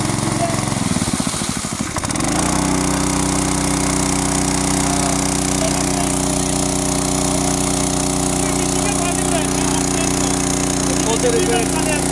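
A motor-driven pump runs steadily while draining a fish pond, its loud, continuous engine drone holding an even pitch throughout after a brief dip near the start.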